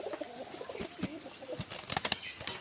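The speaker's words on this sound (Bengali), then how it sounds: "এই বৃষ্টির ওয়েদারের মধ্যে যদি কবুতর ছাড়ি, কবুতর তো ঠান্ডা লাগবে।" Pigeons cooing in a coop on a rainy day, soft repeated coos with faint wing flutters and light rustling, fairly quiet and close.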